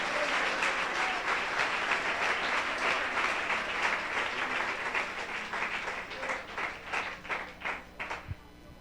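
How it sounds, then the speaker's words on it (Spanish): A church congregation applauds in a sustained, dense burst of clapping that fills the room, then thins into scattered, slower claps that fade toward the end. "Levante su mano, dele un aplauso, alabe al Rey."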